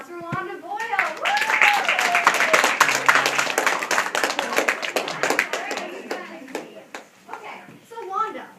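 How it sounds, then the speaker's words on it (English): An audience claps loudly to welcome Wanda Boyle, a guest who lived through the home front as a child, while a host cheers. The dense clapping holds steady for several seconds and then thins into scattered claps as voices return. "please give a big round of applause for Wanda Boyle"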